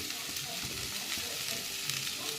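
Turmeric dropped into hot mustard oil for an amla pickle, a loud, dense, steady sizzle and crackle up close with faint stirring underneath.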